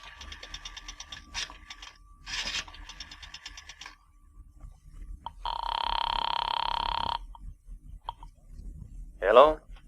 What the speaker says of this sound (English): I drove as far as the nearest drugstore, dropped a nickel in the slot, and dialed